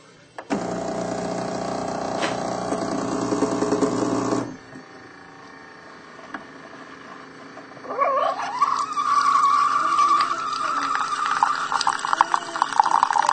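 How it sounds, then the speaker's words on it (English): A coffee maker brewing a fresh cup gives a steady mechanical hum, drops to a quiet lull, then breaks into continuous gurgling and bubbling as the hot water and coffee flow, fairly close and with no voices. "that sound must mean fresh brewed coffee"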